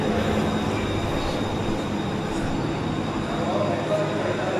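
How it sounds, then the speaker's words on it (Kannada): A metro train runs with a steady, broad rumble and hiss of wheels and motors, heard from close by at fairly loud level with faint voices in the background. "ಮೆಟ್ರೋ"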